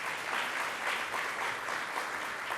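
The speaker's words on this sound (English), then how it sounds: "Let's give him another round of applause" A room of people at a higher education budget announcement applauds steadily, a soft but sustained patter of clapping heard from a distance, with no voices over it.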